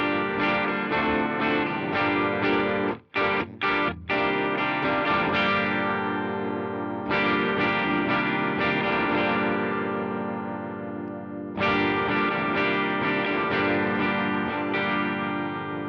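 An Earthquaker Devices Rainbow Machine Version 1 pitch-modulation pedal set with the magic control all the way down plays repeated sustained chords with shimmering harmonics, broken by several short stabs and a few clear pauses between phrases.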